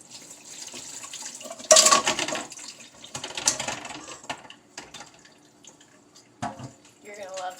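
Water splashes and trickles into a container holding eggs, with a brief loud gush followed by intermittent drips and clinks amid quiet speech.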